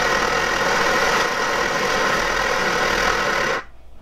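An Optimus Svea 123R camping stove burner roars at full power with a steady, loud, close-up rushing hiss and low rumble, then cuts out abruptly near the end.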